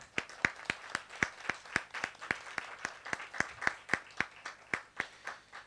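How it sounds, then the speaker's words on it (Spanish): At an academic panel on teaching experiences, a small audience claps for a teacher. The separate, evenly spaced claps sound fairly faint, like only a few people clapping in a steady rhythm. "Un aplauso para la maestra, por favor."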